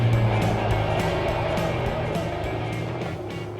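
A Norton Dominator motorcycle on the road, its engine droning steadily with rhythmic firing pulses and wind rush, loud and continuous throughout.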